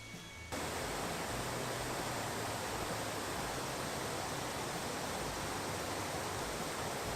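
A nice creek along nature trails, the kind you can fish in, gives a steady, close rushing wash of flowing water that starts abruptly and holds constant with no voices.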